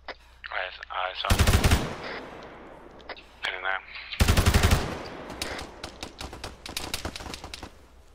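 Arma 3 machine gun fire in two loud, rapid bursts of a second or so each, with scattered shots and clatter between them and voices talking over radio in the gaps.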